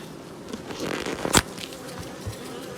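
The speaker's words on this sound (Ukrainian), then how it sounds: "Бджоли обсідають зразу, нюхають неї." Honey bees crowd around a marked queen at an apiary, a soft buzzing and crawling with one sharp, close click or scrape in the middle, and no voices.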